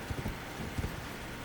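Horse hooves clopping in the video game Elden Ring, a few soft, low thuds in quick succession over a steady background hum.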